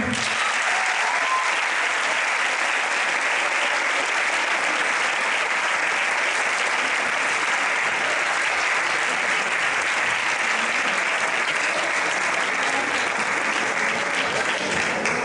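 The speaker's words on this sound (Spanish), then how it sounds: "així que us demanem un altre aplaudiment" A large audience applauds steadily and loudly for the whole stretch after a school theatre play, a dense wash of clapping without pause.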